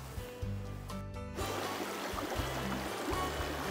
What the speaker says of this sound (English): this is a nice, peaceful stream here at camp. We got some great water sounds